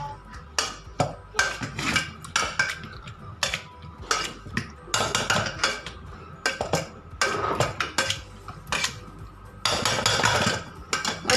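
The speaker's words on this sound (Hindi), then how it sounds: "थोड़ा सा इसको भी मैश कर लेंगे एक मैशर के" Cooked vegetables being mashed with a masher in a pot after pressure cooking, a loud series of irregular clanking and squelching knocks of metal against the pan, heard alone without talk.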